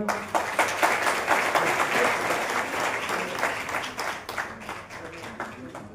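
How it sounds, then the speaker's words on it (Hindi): A large crowd at a public gathering bursts into loud, sustained applause, dense and even, gradually easing toward the end with little talk. "जोरदार तालियां।"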